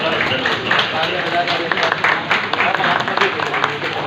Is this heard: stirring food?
no